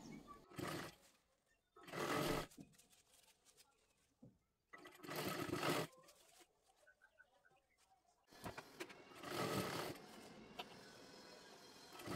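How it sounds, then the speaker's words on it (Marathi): A sewing machine stitches a dress made from a saree in several short whirring bursts separated by pauses, with some low voice in the background. "इथून बरोबर शिलाई करायला सुरुवात करायची आहे"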